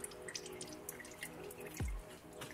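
Gearbox oil from a DSG transmission on a VW Audi Seat Skoda drips steadily out of the drain during a service, with a single heavier plop standing out near the end against faint workshop background.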